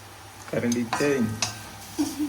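A spoon stirs chicken ghee roast masala in a pan, with a few scraping clinks against the metal, while a person talks over the cooking.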